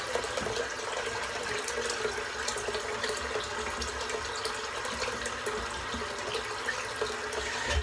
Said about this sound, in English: whenever I rinse my head down